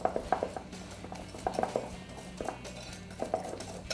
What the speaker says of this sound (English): Stir again.